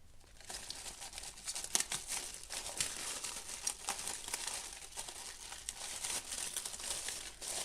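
Aluminium foil being pulled out of an epoxy resin bowl mold, producing close, continuous crinkling and crumpling with irregular sharper crackles over several seconds.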